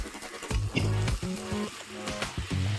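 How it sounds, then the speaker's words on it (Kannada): Onions sautéing in a pan for a village-style clam curry: a steady, close sizzle with brief stirring scrapes and clinks, no talk. "ಅದಕ್ಕೆ ಸ್ವಲ್ಪ ಈರುಳ್ಳಿ ಹಾಕಿ ಈ ಥರ ಬಾಡಿಸ್ಕೊಳ್ಳೋಣ"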